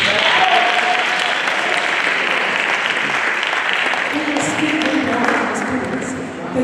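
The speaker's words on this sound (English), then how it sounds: "Can you clap for him, please?" An audience at a panel discussion on land expropriation in South Africa applauds as a student council president is introduced, with sustained, dense clapping. Voices rise faintly beneath it toward the end.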